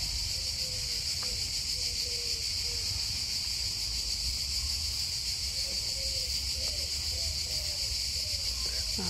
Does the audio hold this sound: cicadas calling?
yes